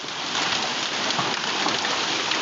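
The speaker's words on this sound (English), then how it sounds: "that's the biggest hailstorm I've ever seen" Hail pours down onto a front yard in Dallas during a summer storm, a loud, dense and steady hiss and patter that keeps up without a break and has no voices.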